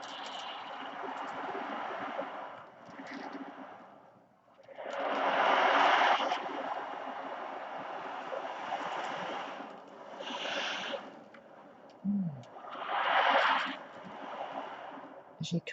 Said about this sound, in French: je t'invite à me rejoindre au son des vagues de mon tambour océan